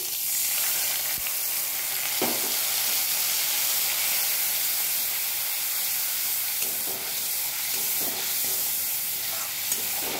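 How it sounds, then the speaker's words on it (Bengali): Ginger and cumin paste goes into hot tempering oil and sizzles with a loud, constant hiss from close by, broken now and then by faint stirring clicks. "আমি এর মধ্যে যে আদা আর জিরে আর এটার পেস্ট বানিয়ে রেখেছিলাম সেটাই দিয়ে দিচ্ছি।"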